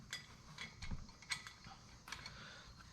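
A nut spins down a clutch compression tool during an Assassins S3 clutch kit install for a 2021 RZR Pro XP. Quiet, irregular metallic clicks and ratcheting clinks come with short pauses, close by and without talk.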